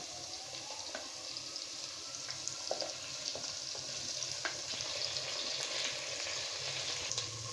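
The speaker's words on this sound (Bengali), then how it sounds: "পেঁয়াজগুলো একটু লালচে রঙ হচ্ছে কিন্তু এখনও সম্পূর্ণ হয়নি আর একটু ভেজে নেব" Sliced onions fry in a pan while chicken biryani is being made, giving a quiet, even sizzle throughout with scattered faint clicks and light stirring sounds.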